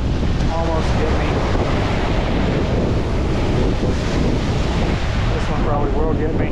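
Ocean surf rolls and crashes on the shore in a steady, loud wash of churning water, with heavy wind buffeting the microphone throughout and no talk over it.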